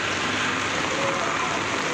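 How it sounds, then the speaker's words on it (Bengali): Light rain falls on a street as a steady, even hiss of broadband noise that holds without change, with no distinct drops standing out. "এখন কিন্তু বৃষ্টি হালকা বৃষ্টি পড়ছে"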